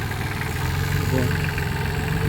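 A Solis 26 mini tractor engine running at a farm equipment dealer's test area, a steady mid-pitched idle with a continuous low rumble, with voices talking faintly in the background.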